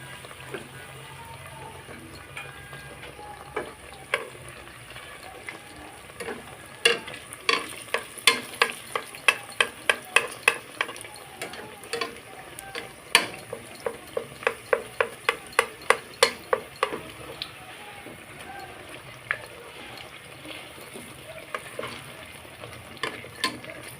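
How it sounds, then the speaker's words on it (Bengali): Eggplant fritters (beguni) frying in hot oil crackle with a steady sizzle, punctuated by a long run of sharp, closely spaced pops and clicks as the slices are turned, close and clear with no talk. "উল্টিয়ে পাল্টিয়ে আমি লাল লাল করে ভেজে নিই"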